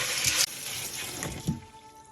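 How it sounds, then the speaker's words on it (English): Water running from a tap while beans are rinsed, a close steady splashing gush with a few louder splashes, brief and without talk. "we just rinse the beans and get the pot ready"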